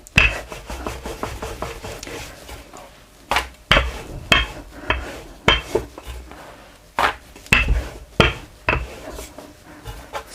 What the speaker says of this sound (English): I'm going to roll the roti out until it's like quite big in shape